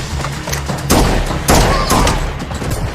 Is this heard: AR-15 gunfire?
yes